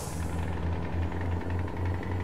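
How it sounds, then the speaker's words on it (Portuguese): A Volkswagen Titan truck's exhaust growls in Euro Truck Simulator 2, a steady low rumble with a pulsing beat that holds throughout, with no talk over it. "o escapamento. Tá grunhindo"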